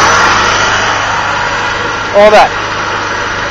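A boat engine runs steadily to generate power aboard the boat out on the water, a loud constant drone filling the whole clip while someone speaks briefly over it.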